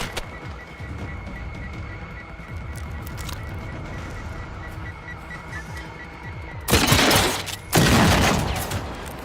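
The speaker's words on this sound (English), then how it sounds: "Who's still shooting at me?" Enemy gunfire in the video game Generation Zero, a steady crackle of distant shots running throughout, then two loud, close bursts of heavy firing near the end.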